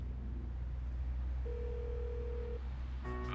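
A telephone rings out unanswered on a call: a quiet, steady line hum with one long ringback tone, followed by a brief automated-sounding tone at the end.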